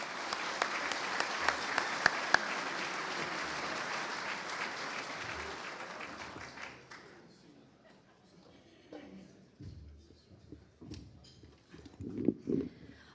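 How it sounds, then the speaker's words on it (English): An audience at a USBWA basketball awards ceremony applauds warmly for about six seconds before the clapping dies away, and a presenter then starts speaking quietly. "please give him a warm round of applause"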